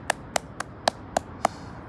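Six crisp hand claps ring out at an uneven, unhurried pace, each sharp and close, over a quiet background.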